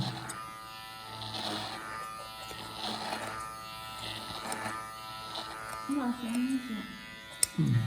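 An electric trimmer buzzes steadily while trimming the pile of a hand-tufted rug, the motor drone rising and falling with each pass, with a person talking over much of it.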